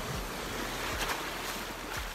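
Ocean waves at a beach: a constant rushing wash of surf with gentle surges and breaking swells, steady and fairly close, with no talking.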